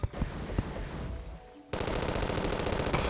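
Rapid gunfire in the video game Terraria, short bursts of shots before a brief lull, then a dense, continuous rattle of fire that ends in a louder blast.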